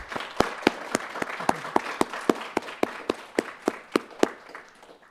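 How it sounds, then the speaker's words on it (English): Applause from a small group: sharp, evenly spaced claps ringing out for several seconds, fairly close, with no talking. "can we give her a round of applause?"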